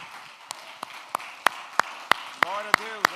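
Single hand claps ring out one at a time at a steady, even beat during a church service, close and distinct over a quiet room, with a brief tonal voice-like sound near the end.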